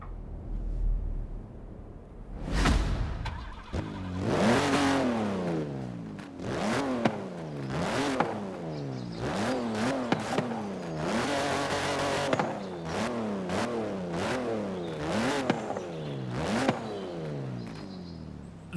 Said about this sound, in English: let's go ahead and fire up the straight 6